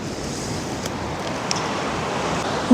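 A river flows steadily beneath trees in a lily-filled highland meadow, a constant broad rushing wash heard alone with no voices, ending in a brief louder bump.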